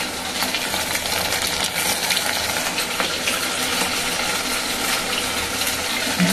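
Small stale-roti koftas mixed with coriander leaves frying in oil in a pan, a continuous close bubbling sizzle with faint clicks over it and no voices.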